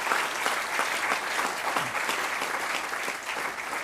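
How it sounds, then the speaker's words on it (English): A lecture-hall audience applauds a guest speaker after a memorial oration, with dense, steady clapping from many hands that stays even throughout, with no voices over it. "more than any felicitation is the applaud that we give to our guest"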